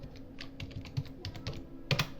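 Keys on a computer keyboard tap at an uneven pace, close and light, with a quick double stroke near the end while entering a date in a spreadsheet.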